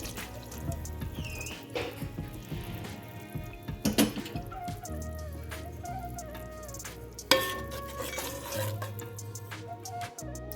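Ghee poured into hot sugar syrup in a pan and stirred while making boondi laddu, giving a steady close sizzle with wet stirring and scraping, a few sharper clinks, and soft background music throughout.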